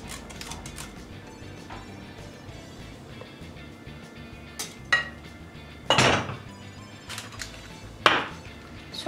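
A metal cheesecake pan filled with freshly poured batter is shaken and tapped, giving scattered clattering knocks and rattles, with several louder metallic hits standing out over a low, steady kitchen background.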